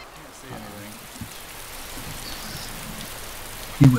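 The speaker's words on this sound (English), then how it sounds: "Is it raining? It's totally raining. Yeah, it's raining." Rain patters steadily across the world of the video game DayZ, a soft, even hiss of falling drops under scattered voices, ending with a sharp loud knock.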